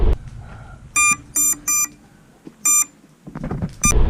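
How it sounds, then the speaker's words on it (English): Electronic speed controllers on a lost FPV quadcopter drone in a backyard emit a series of short, loud, high-pitched tonal beeps in spaced bursts, over faint outdoor background noise. "it's his backyard, and the ESCs are beeping."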